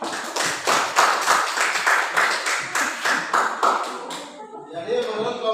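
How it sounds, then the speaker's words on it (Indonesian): A classroom of students claps for a student group, a lively burst of applause lasting several seconds before tapering off, with a voice speaking briefly as it ends. "Tepuk tangan untuk kelompok Bung Hatta."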